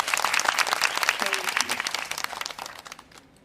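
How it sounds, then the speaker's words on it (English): A small group claps loudly in a fast, busy burst that slowly thins and fades out over about three seconds. "Can I get another round of applause?"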